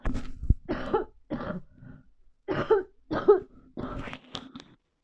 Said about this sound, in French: Je vais encore tousser, pardon.